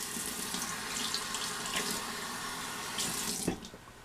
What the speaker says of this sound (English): I'm gonna put some water on this.